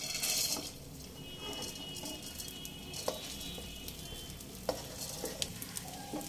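Basmati rice gently stirred and fried on low flame in oil tempered with cardamom and cloves, a soft steady sizzle under light scraping strokes and a few sharp spatula taps.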